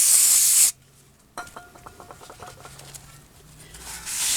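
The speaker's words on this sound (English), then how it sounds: "I'm just going to spray it with a little bit of this brake clean." Aerosol brake cleaner sprayed onto a new brake rotor: a loud hissing burst at the start, a pause, a run of small taps and clicks, then a second spray hiss rising at the end.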